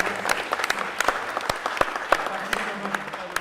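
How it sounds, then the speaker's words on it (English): Audience at a talk on the Islamic economy giving the speakers a round of applause, sharp individual claps standing out over a crowd, fairly close and lively, with a voice briefly heard over it. "Can I have a round of applause"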